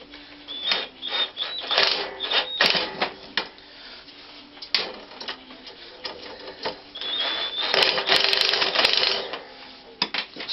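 A power tool winds a bolt into place on a machine, giving rapid mechanical rattling and whirring in repeated bursts with pauses, close and fairly loud, some bursts carrying a higher whine.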